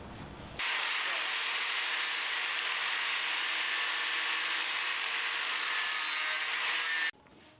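A power cutting tool slices off a turbo wastegate mount on a turbocharged rotary minibike, giving one steady, loud, high-pitched grinding whine that starts abruptly and stops about six seconds later.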